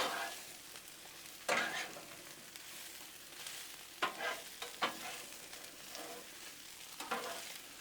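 Peppers and onions sizzle on a hot Blackstone griddle, with a soft steady frying hiss broken by several sharp scraping stirs of a spatula at uneven intervals, close and fairly quiet.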